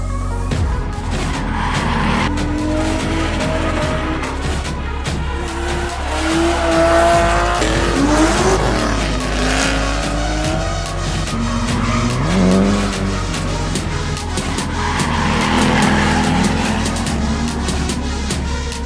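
Drift cars at a summer drifting event at Tanoshimu Park, engines roaring and tires squealing in long sliding passes, loud and continuous throughout with no talk.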